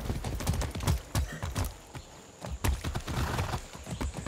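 Video game horse hooves in Far Cry 6 clip-clop in a steady walking rhythm, fairly close, with soft snorting and shuffling between steps.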